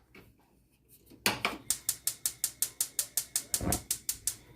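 A kitchen stove being switched on to medium-high heat while making sweet and sour sauce, giving a fast, steady run of about sixteen sharp, close ticking clicks like a burner igniter, after a quiet start with no talking.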